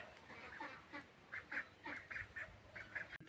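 Ducks quacking in a rural farmyard setting, a series of short bright calls in quick irregular bursts, moderately close and fairly clear against a quiet background.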